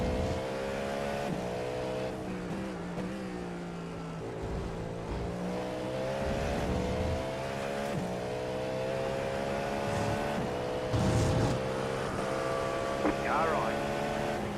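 A race car's engine runs steadily on a track in a continuous loud drone with harmonic tones that shift as it revs and changes pitch, alongside radio talk from a driver.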